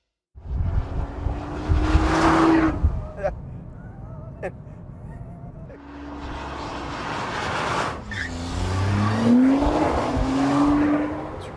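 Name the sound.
Nissan GT-R driven hard on a track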